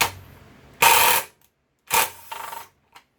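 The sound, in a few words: 5/16 socket on a ratchet removing bolts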